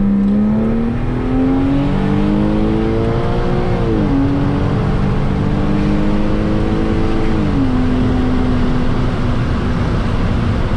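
A non-turbo Porsche 987 Cayman with an opened-up air intake revs loudly and close on downshifts, its engine note swelling and dropping in two sharp throttle blips over a continuous drone.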